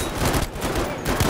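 Gunfire in the Battlefield 5 video game striking the player: a dense, continuous barrage of shots and impacts, loud and close throughout with no speech.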